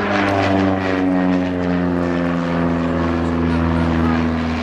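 Loud, steady drone of an SA Bulldog propeller aircraft at an airshow, a deep harmonic engine hum with propeller buzz holding near and even throughout.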